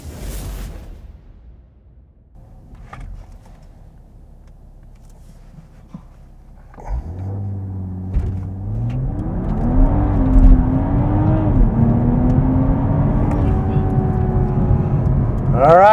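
A MKV Toyota GR Supra with a custom JB4 ECU tune and stock summer tires sits quietly, then launches hard from rest. The engine note climbs steadily in pitch and grows louder as it accelerates through the gears.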